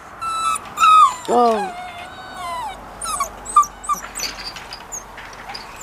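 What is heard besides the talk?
wet dog whimpering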